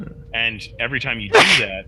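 A single sharp sneeze bursts out at close range amid people talking during a tabletop role-playing game session.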